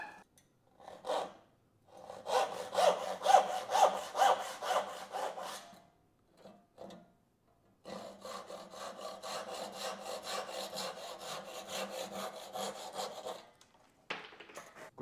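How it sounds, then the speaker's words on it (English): A hand saw cuts through wood for a Morris-style armchair in two long runs of steady back-and-forth rasping strokes, close by and fairly quiet, with a short pause between the runs. "All right, now I just need to grab the saw and cut it out."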